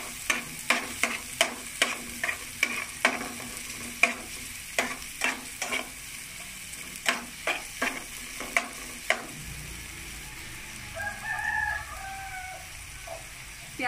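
Onions sauté in oil in a pan, heard up close as a rhythmic series of spatula scrapes and knocks about every half second over a soft sizzle, before the stirring stops and only a quieter fry remains.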